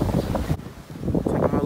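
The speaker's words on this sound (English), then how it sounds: "it's windy as hell out here" Gusty wind buffets the microphone with a low, rumbling roar, while voices talk over it throughout.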